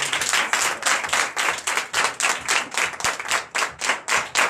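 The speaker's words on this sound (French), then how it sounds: "C'est comme ça que vous l'allez applaudir, mon Dieu," Rhythmic, sustained clapping from a church congregation at a Sunday service in Benin, loud and evenly paced beats continuing throughout with a dense crowd texture.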